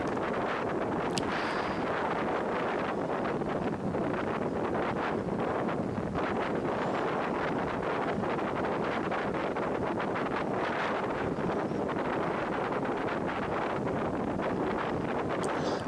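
Strong wind buffeting the microphone while a Hilleberg Jannu tent is pitched outdoors, a loud continuous roar and flutter with gusty rustling throughout and no pauses.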